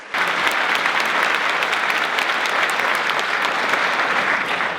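A ceremony crowd at the opening of the underwater hockey world age group championships in Hobart applauds after a Welcome to Country dance and song, with dense, steady clapping sustained throughout at close, loud level.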